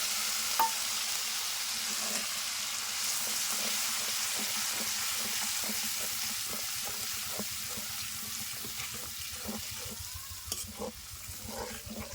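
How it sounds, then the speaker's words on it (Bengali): Ground spice paste for a chicken curry is stirred in a frying pan, giving a steady sizzle with quick, regular scraping strokes close by throughout. "এবার দিয়ে দাও বেঁটে রাখা মশলা"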